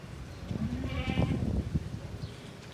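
Goats at a livestock market in Karachi give a loud wavering bleat close by, amid crowd bustle and other animal noise.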